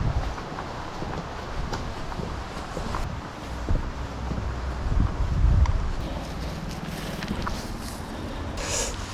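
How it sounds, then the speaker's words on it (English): Wind gusts along a railway path trail on a warm summer day, a steady low rumbling buffet across the microphone that swells and eases, with light rustling and a few faint footstep-like knocks. "It's nice though, windy. Nice breeze on this warm day."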